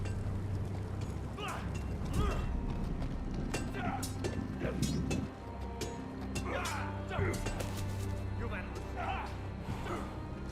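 Horse hooves clip-clop at a walking pace in the Telltale Game of Thrones video game, a steady repeated patter of hoofbeats mixed under music and ambience, with voices speaking over it.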